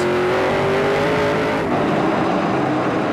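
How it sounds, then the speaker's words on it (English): A race car engine at the Trois-Rivières GP3R street race, heard on board the 60 car, roars loud and close, climbing in pitch as it accelerates, then shifting and pulling again in a continuous drone. "riding on board with the 60 car rolled by Ron Beauchamp Jr., currently sitting in 9th place"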